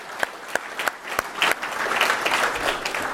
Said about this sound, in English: I want a round of applause for all the volunteers and organizers of Blue Team Village.